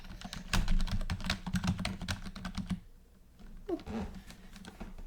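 Rapid, clacky typing on a new, loud computer keyboard, close up, stopping for a moment before resuming with a faint hum in the background.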